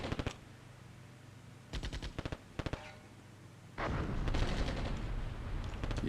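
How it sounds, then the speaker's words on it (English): Tank ammunition cooking off inside a knocked-out armoured vehicle in the Armored Brigade II wargame: sharp crackling bursts of popping rounds in short rapid clusters, then a sustained louder roar of continuous crackle and rumble. "This is ammo cooking off."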